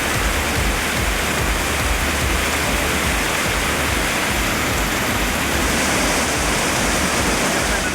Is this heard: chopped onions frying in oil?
no